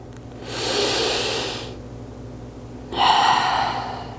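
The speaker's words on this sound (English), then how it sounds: "Taking one more full breath" Two deep, full breaths during a forward yoga fold, a long airy inhale followed after a pause by a strong, close exhale, each a soft rushing hiss.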